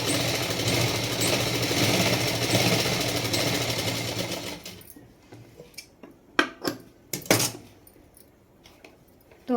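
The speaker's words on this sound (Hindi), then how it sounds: "अब इसको भी हम यहाँ से एक और सिलाई लगा लेंगे।" A sewing machine runs loud and steady while stitching a double katori blouse, then stops after about five seconds, followed by a few sharp clinks and handling knocks of fabric and metal parts.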